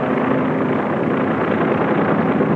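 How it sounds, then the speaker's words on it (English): Helicopter lifting re-entry parties off the Navy ship Rendova after an atoll nuclear test, a steady loud broadband rotor and engine drone with a low hum, continuous and unchanging throughout. "Re-entry parties are leaving the Rendova now by helicopter."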